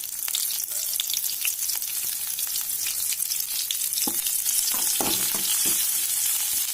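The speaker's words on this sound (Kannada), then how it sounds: "ಆಮೇಲೆ ಕರಿಬೇವು ಹಾಕೋಣ ಹಸಿ ಮೆಣಸಿನಕಾಯಿ ಹಾಕೋಣ" Curry leaves and green chillies sizzle and crackle steadily in hot oil for a sprouts snack, with a few sharper spoon-stirring scrapes and pops near the end; no talking.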